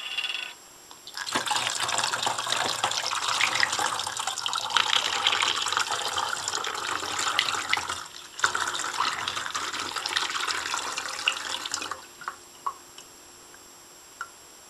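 Nannochloropsis oculata algae culture glugs and splashes steadily as it is poured from one bottle into another, with a brief pause midway, then ending in a few drips.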